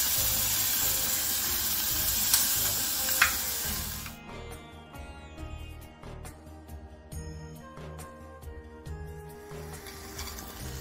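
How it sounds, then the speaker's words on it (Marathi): Ambemohar rice and spice mix sauté in a pan for a Maharashtrian Ganesh Chaturthi dish, a loud broad sizzle that drops abruptly to a quieter crackle with light metallic clinks of stirring. "आपला आंबेमोहर तांदूळ आणि मसाला छान परतून झाला आहे"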